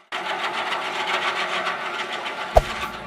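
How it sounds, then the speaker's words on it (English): A steam engine running at the Antique Gas and Steam Engine Museum, powering a vintage sawmill: a steady, dense mechanical rumble with a faint regular pulse, close and continuous, with one sharp knock near the end. "The deep, steady rumble of the steam engine echoes the glorious era of classic industry"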